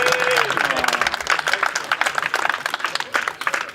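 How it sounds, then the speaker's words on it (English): Audience applause at a classic car show awards presentation, a steady wash of clapping from a crowd that runs throughout, with a voice talking over it. "Big round of applause, please."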